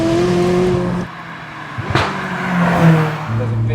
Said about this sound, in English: Man, you can hear that exhaust so clear,